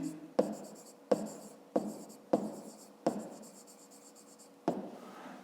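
A pencil writing on paper for a fifth-grade math exercise, six distinct scratchy strokes in bursts with short pauses between, close and clear, no talking.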